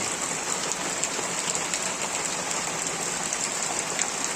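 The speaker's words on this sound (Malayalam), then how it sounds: "ആ ചെറിയൊരു ചാറ്റ മഴയോടുകൂടി, നല്ല ചെറിയൊരു മഴയോടുകൂടെ" Light drizzle falls on garden plants, a soft, even patter of raindrops on leaves that continues steadily without any voices.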